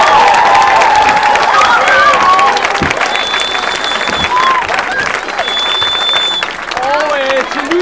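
Audience applauding the musicians at a Danish amateur musical performance, a steady wash of clapping with some cheering and whistles, loud and sustained throughout.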